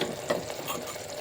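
Green chillies sautéing in a pan for vegetable pulao, a soft steady sizzle with faint stirring, quiet and close, no talk.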